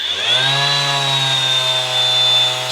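A Parkside Performance 20V cordless random orbital sander, model PAMSP 20-Li A1, running in Eco mode with a steady, loud, close motor hum and a high whine that stays nearly constant throughout, with no voices.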